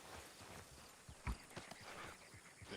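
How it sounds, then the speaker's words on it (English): Faint, steady clip-clop of horse hooves walking at an even rhythm in the video game RedM, somewhat distant under a noisy background. "You hear them horses."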